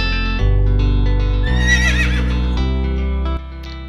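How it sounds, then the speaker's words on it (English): A horse neighs in a loud, wavering whinny lasting about a second, set against steady, prominent background music in a preschool alphabet song. "H for horse."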